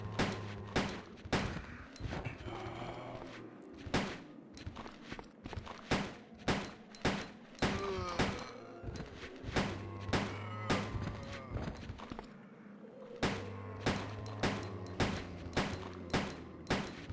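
Repeated gunshots from Resident Evil 2, played as Leon Kennedy, crack out in loud, irregular bursts and volleys, some shots close together and others spaced, with thuds and footsteps between them and no speech.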